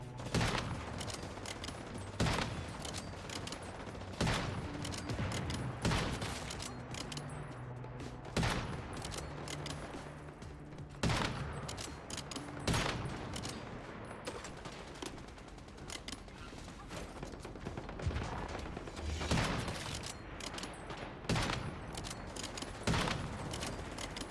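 Video game gunfire rattles in repeated bursts and single sharp shots throughout, loud and close, with mechanical clicks between volleys.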